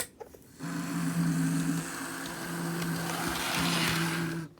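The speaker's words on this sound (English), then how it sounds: "Sounds like the engine bearings or something might need some more oil." An HO scale BNSF GP40 model locomotive's electric motor runs with a steady buzzing whine, apparently needing oil in its bearings, starting after a brief click and holding an even hum that fades at the end.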